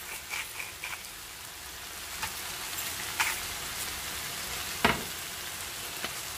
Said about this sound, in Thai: เราก็จะผัดคลุกเคล้าให้เข้ากันเนาะ